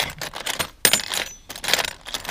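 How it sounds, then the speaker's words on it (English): A set of worn metal keys jangles in repeated bursts of shaking close at hand, with brief pauses between bouts of clinking and rattling. "Worn keys."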